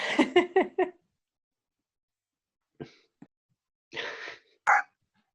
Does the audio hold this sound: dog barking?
yes